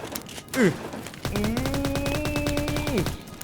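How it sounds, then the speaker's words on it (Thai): Shotgun fire in the Roblox game Undead Defense Tycoon rattles out in a rapid string of loud, evenly spaced blasts with a ringing tone, after a brief vocal sound at the start. "บอกเลยลูกซองนี่คือแรงจริง"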